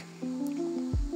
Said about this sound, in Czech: To je nějaká voda.